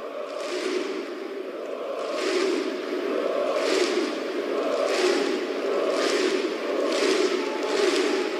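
Cruzeiro football supporters fill the Estádio Independência with a steady roar after a win, swelling into repeated rhythmic chants and cheers, loud and continuous with no talk on top.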